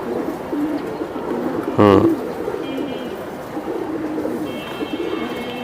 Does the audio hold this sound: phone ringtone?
no